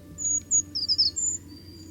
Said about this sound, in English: Sang the brown creeper.